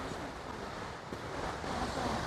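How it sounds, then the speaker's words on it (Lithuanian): A continuous broadband roar of rushing water fills the scene, steady and loud like a large waterfall nearby in a gorge near Tbilisi, Georgia. "Pagaliau po ilgų vaikščiojimų ratais kvadratais pasiekėm krioklį, įspūdingą, didelį krioklį"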